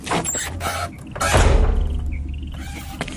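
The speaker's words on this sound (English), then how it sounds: "I'm going to shut the door now, Lena." In a radio drama, a door slides and thuds shut at close range, with mechanical rattles and a heavy rumbling closure in the middle. Faint clicks and rustles follow.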